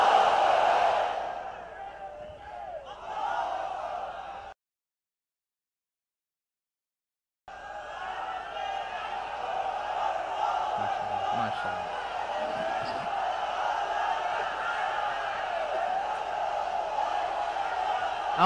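A large crowd shouts a takbir chant at an outdoor Islamic sermon gathering on a parade ground in Chattogram, a sustained roaring mass of voices that breaks off into silence, then swells back into a loud, continuous crowd din.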